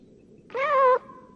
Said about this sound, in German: Ja, yeah, die Katze!